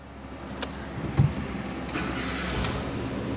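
Idling engine of a car with an overheating or radiator-leak problem, a 2008 Corsa 1.0 or 2003 EcoSport 1.6, heard as a steady low rumble close by with a few faint clicks, no talking.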